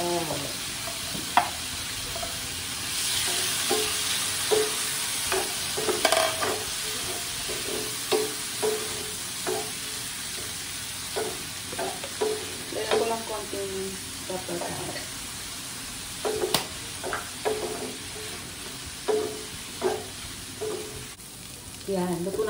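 Mixed vegetables fry and get stirred in butter, a steady sizzle broken by repeated scraping clatters of a utensil against the pan, fairly close, with occasional talk over it.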